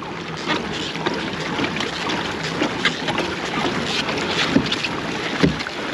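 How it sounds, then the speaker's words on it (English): Hammerhead Baby Whale pedal kayak, a wide 12.5-foot boat with a pedal drive, pushing through water at top speed, giving a steady loud rush of water and wind noise with small splashes throughout. "It plows through the water pretty good."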